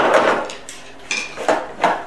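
Several screwdrivers fall and clatter in a workshop, a handful of sharp metallic knocks and rattles spaced over about two seconds, close and fairly loud.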